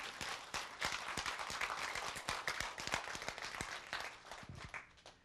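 An audience claps at a lecture on classical Chinese writing, a brisk crowd of hand claps rising quickly, staying steady and full for several seconds, then thinning out toward the end.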